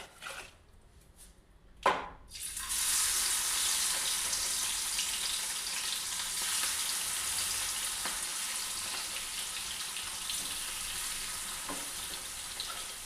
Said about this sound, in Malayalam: നമുക്ക് ബോൺസ് ഇടാം